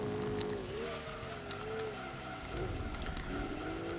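A car engine in Gran Turismo 2 holds a steady, loud grumbling drone throughout, with a wavering pitch as the revs shift slightly and a brief dip near the middle.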